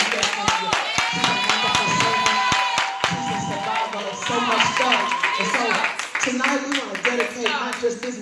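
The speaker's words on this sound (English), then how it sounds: "Can we clap for the lady in the house?" Rhythmic group clapping from a church audience, loud and close, mixed with crowd voices and sung or spoken tones over the beat, easing off toward the end.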